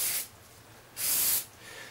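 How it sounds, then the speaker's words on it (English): A lubricant spray can hisses onto a Rubik's cube in two short, close bursts separated by a brief pause, with no talking. "never starting or stopping spraying on one of the cubes, so like this"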